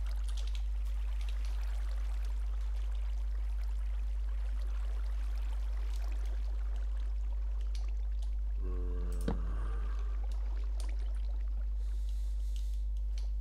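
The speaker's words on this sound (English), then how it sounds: "So let's maybe try to shut up this water, because it's just too loud otherwise." Flowing water in the Minecraft video game, a steady rushing stream over a low hum, with a single sharp click near the end.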